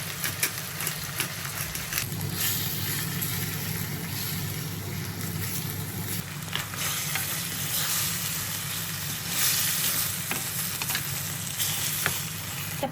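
Chicken sautéing in a pan for tinola with lemongrass and margarine, a steady close sizzle and frying crackle with occasional stirring scrapes and a low background hum throughout.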